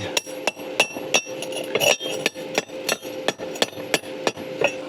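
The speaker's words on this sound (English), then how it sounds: "Let's break off the flux." Sharp metallic hammer blows chipping slag flux off a fresh weld using a homemade welding hammer made from a hammer drill bit, about a dozen ringing strikes at an irregular pace, close and alone.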